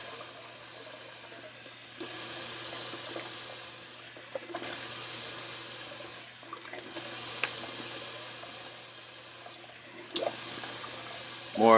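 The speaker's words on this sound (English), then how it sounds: "Just do a little cold water rinse." Cold tap water runs into a sink, in several bursts switched on and off over about twelve seconds, a steady close hiss in each with short gaps of quiet between.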